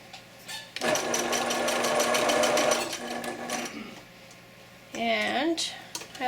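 Sewing machine stitching through a layered flannel chenille scarf held with pins, running in a steady rapid whir for about two seconds, pausing, then giving a shorter burst, loud and close with no talk over it.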